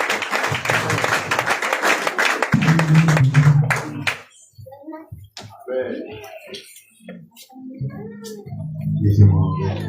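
Congregation in a church service clapping in praise of God, a dense burst of applause that fades out, followed by scattered claps, taps and voices before clapping swells again near the end.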